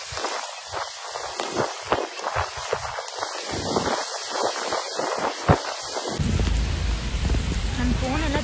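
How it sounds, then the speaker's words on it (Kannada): Steady rain pours outdoors at Bannerghatta National Park on a safari, a dense close hiss of drops striking surfaces, growing heavier and fuller in the final seconds, with a few louder drips standing out. "ಮಳೆ ಬರ್ತಾ ಇದೆ"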